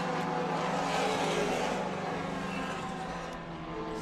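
Porsche 356 race cars in a vintage SVRA race at Laguna Seca climb the hill together, with a steady, dense engine roar that holds loud and fairly even throughout, no talk.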